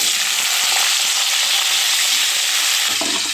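Chopped vegetables hit hot white oil in a wok, a loud, steady frying hiss that fills the whole stretch with faint stirring scrapes underneath and no voices.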